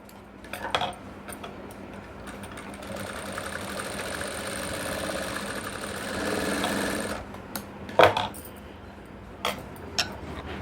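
A sewing machine runs steadily for several seconds while joining a seam on a skirt, a continuous mechanical whir that stops around the seven-second mark, followed by a few scattered clicks and handling knocks.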